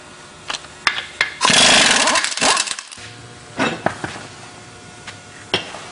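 A power tool whirs in loud bursts while a motorhome's front wheel is pulled off, followed by scattered metallic clanks and taps from the work.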